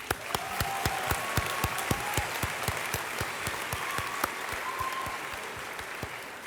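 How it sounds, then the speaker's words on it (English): Graduation crowd applauding the class of 2025, with sharp, rhythmic individual claps standing out over a steady wash of many hands, sustained and fairly close. "Let's give ourselves a round of applause."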